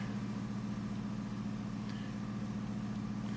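A Ram Hemi V8 engine running rough idles with a steady low droning hum and a faint irregular pulsing, heard up close and alone with no voices.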